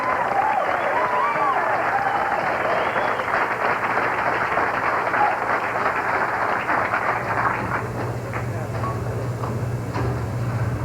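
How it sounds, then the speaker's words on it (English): A packed crowd rises in a standing ovation at a 1995 senior bowling event, a dense, sustained wash of clapping and cheering that fills the hall steadily, with a low rumble running underneath. "Standing ovation from this packed crowd"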